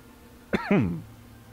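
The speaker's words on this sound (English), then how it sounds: "was all me coughing in real life" A single sharp cough followed closely by a longer, rasping cough with a throaty tail, close and clear against a quiet background.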